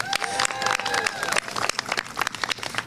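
Crowd applause and cheering at an outdoor lawyers' march for democracy, a dense wash of many hands clapping with scattered whoops, steady and loud throughout, with a voice or two rising over it early on.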